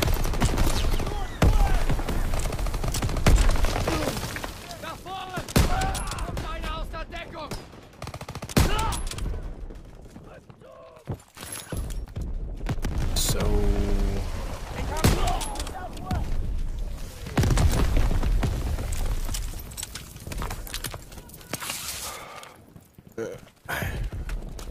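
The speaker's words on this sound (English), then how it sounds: "That artillery's coming!" A Call of Duty WW2 battle rages with dense, repeated gunfire and heavy artillery booms, loud and chaotic throughout, while soldiers' voices shout amid the barrage.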